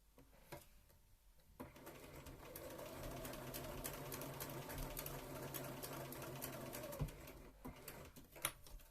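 A sewing machine stitches a seam on a Regency dress with a steady, close mechanical whir lasting several seconds, with light clicks before it starts and after it stops.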